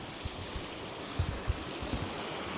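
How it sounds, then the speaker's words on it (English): A waterfall on a hiking trail, heard from a bridge just above it, gives off a soft, constant rushing wash with a few low thumps, faint and unbroken, with nobody speaking. "this is the second waterfall, so basically I'm right on top of it"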